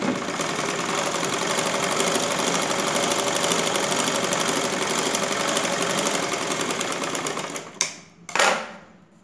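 A sewing machine double-stitches blouse cloth in one loud, steady, whirring run of close stitching, then stops near the end with a couple of brief mechanical bursts.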